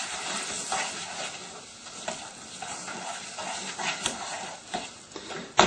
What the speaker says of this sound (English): Now to give this a proper stir, I'm just going to grab the handle, turn it round.